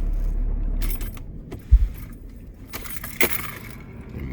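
A Mercedes-Benz is switched off: the engine hum cuts out, followed by a jingle of keys and a couple of faint clicks inside the car.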